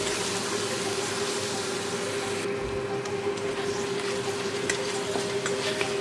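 Ground onion paste fries in a pan for an Aloor Dum, a steady, moderate sizzle with light stirring throughout.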